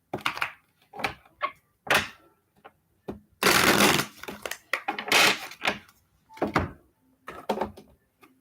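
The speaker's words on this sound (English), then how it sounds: "I do shuffle this deck a little bit differently because it's so thick and very stiff" A thick, stiff tarot deck shuffled by hand in a run of crisp riffles and taps, with one longer, dense burst of card flutter near the middle and shorter bursts around it, close and fairly loud with no talking.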